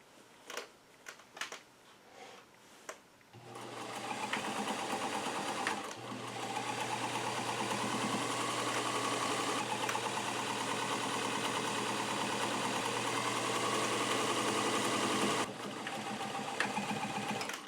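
A vintage sewing machine over fifty years old runs steadily while stitching a second row along a trouser hem, a close, even mechanical whir that holds for over ten seconds after a few short starts.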